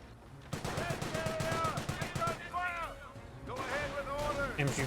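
Rapid machine gun bursts and rifle shots from World War II infantry combat in Company of Heroes, a steady rattle of repeated cracks running throughout, layered with game voices and someone talking over the battle.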